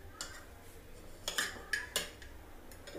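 A spoon mixing black pepper and salt seasoning in a bowl, giving a few faint, sparse metallic clinks and scrapes against a quiet background.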